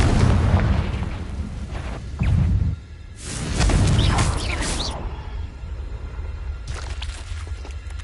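The Confringo explosive spell cast in Hogwarts Legacy, giving heavy booming bursts with whooshing fire and crackling debris, loud and close over a steady rumbling game background, one large blast followed by another swell and a fading tail.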